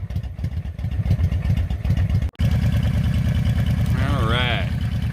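A Honda Shadow 750 motorcycle engine idles while warming up, a loud, close, steady pulsing putter with an even beat, briefly cut off for an instant midway, and a voice speaks over it toward the end.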